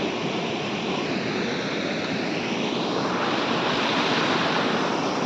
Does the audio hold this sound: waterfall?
yes